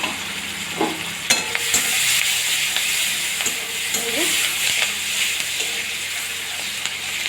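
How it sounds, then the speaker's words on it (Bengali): Chopped onion frying in plenty of hot oil in a pan for a prawn curry, a steady close sizzle with scattered scrapes and clicks of stirring throughout. "তেলটা ভাজতে অনেকটা দিয়েছিলাম তাতে আমি পেঁয়াজ কুচি দিয়ে দিলাম"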